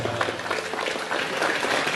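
Brief burst of audience applause at a talk by Cak Nun, dense clapping from a crowd filling the room.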